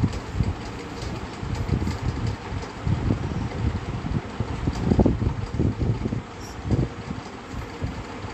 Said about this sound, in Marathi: आता हे थोडंसं एक्स्ट्राचं कापड आहे ते मी कट करणार आहोत आणि डबल शिलाई देऊन घेणार आहेत.